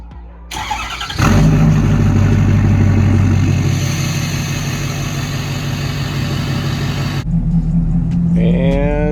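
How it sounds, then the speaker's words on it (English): A pickup truck engine cranks and catches, then settles into a loud steady idle rumble close by, ending with a brief change in tone near the end. "Now we'll get the truck started up."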